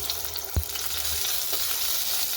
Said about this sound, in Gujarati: હવે તેને આપણે આ રીતે ઊંધા તેલમાં મૂકવાના છે